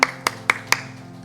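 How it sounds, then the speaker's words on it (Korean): A church congregation at a Wednesday worship service claps four sharp, evenly spaced times in quick succession, loud and close, with a low hum of the room behind. "하나님께 영광의 박수 올려드리겠습니다."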